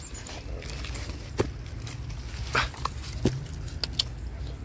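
Distant dogs bark a few times by a creek, faint and scattered over a steady low outdoor rumble.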